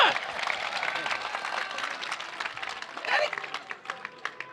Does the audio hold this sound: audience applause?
yes